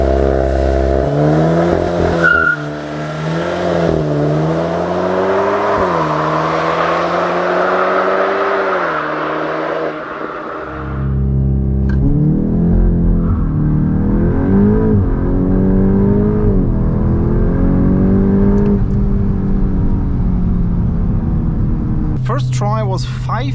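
A VW Golf 8 GTI Edition 45 launches under launch control, its engine climbing hard through the revs, then a brief dip at a gear change before it pulls again with rising tone, loud and close throughout.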